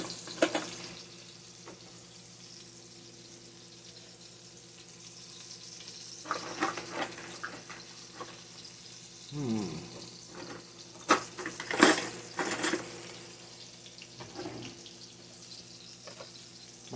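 Water from a kitchen sink faucet runs fairly quietly while a spoon is washed, with intermittent splashing and a few clinks and louder bursts in the middle, close by.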